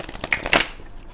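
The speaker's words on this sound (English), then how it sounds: "I shuffle and then I draw from the deck" Tarot cards shuffled by hand, a short close riffle of papery flicks and slaps building to one louder burst before fading, with no voices.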